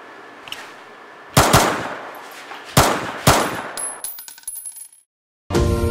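Toy gun without blowback firing three sharp, loud cracks at uneven intervals, each followed by a short metallic ring, with another shot cut off at the end.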